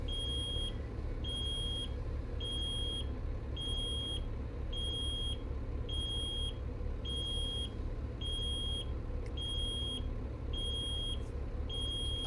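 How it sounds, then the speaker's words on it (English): Regular warning beeps in the video game Heavy Hauls, a high two-tone bleep repeating about every second over a steady loud engine rumble, with no one talking. "that beeping going off is bullshit"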